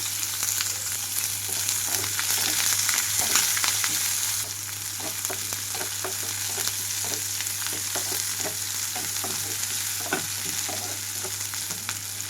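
Curry leaves, chopped onions and green chillies fry on low flame in a pan for a cauliflower and broad bean curry, giving a steady close sizzle broken by frequent light clicks of stirring.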